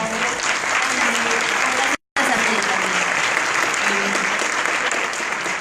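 Dense, steady applause from an audience fills the room at a book presentation in a bookshop, loud and continuous with many hands clapping at once, broken by a short cut before resuming just as strongly.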